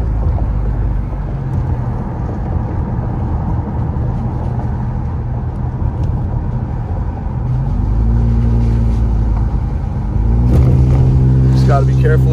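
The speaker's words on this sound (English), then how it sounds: "Driving over the dam right now." A car drives over a dam on a pothole-marked mountain road near Big Bear, California, after a snowstorm. A steady close engine drone and road rumble run throughout and grow louder toward the end, with a person talking over them.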